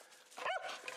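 Australian Cattle Dog at an animal rescue gives a single short, close bark or yip, brief and fairly faint against a quiet background.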